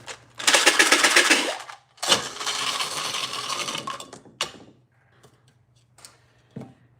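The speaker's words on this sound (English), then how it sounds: "We're going to shake up the dice." Dice shaken hard in a container make two long, loud bursts of dense rattling clatter, followed by a few fainter, scattered clicks and knocks.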